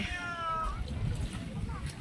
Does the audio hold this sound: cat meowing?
yes